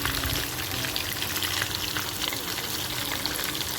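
Fish with masala coating frying in hot oil, dhaba style, a dense continuous crackling sizzle, loud and close, with no voices.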